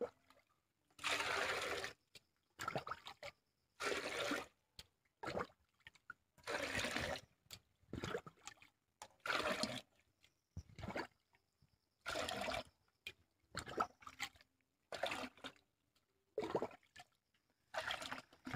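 Water being poured from a two-litre vessel into a large cooking pot, heard as a series of bursts of splashing pour, each a second or two long, separated by short pauses, fairly close and without talk.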